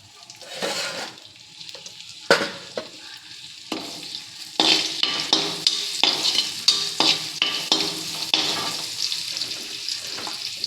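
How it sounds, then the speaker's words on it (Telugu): Crushed garlic dropped into hot mustard oil for a fish curry, sizzling and frying steadily with bursts of crackle and occasional stirring scrapes, close and fairly loud, no talking. "కొంచెం దంచుకున్న వెల్లుల్లిపాయలు వేద్దాం."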